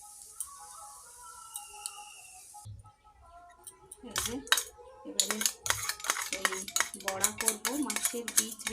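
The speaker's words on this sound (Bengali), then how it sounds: "মোচাটা, এই মোচাটা নেড়ে একটু মাখিয়ে দিব" Banana flower being stirred and mixed in a pan with a utensil: a quiet start, then repeated clinking and scraping strokes growing busier and louder, close by, with some voice present.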